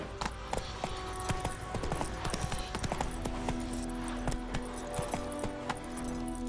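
Roach, the horse in The Witcher 3, gallops with steady, rapid hoofbeats clopping over a busy bed of game ambience, moderately loud and continuous.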